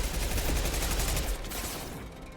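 Gunfire in Mass Effect 2 during a squad firefight, a dense, loud burst of overlapping shots for over a second, then easing off into quieter ongoing fire.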